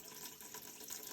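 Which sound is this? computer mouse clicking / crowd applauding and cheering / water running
water running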